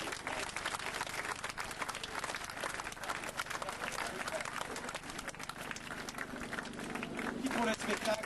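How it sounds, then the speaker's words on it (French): Spectators at a 2003 French championship rallycross final in Mayenne clap in a dense, steady wave of applause that keeps going throughout, with a voice talking over it. "On vous applaudit encore très très fort."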